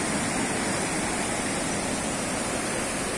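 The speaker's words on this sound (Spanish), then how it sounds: "Aquí nace el río Cali." River water rushing at the source of the Cali river, a steady, loud broadband roar of flowing water with no pauses or voices.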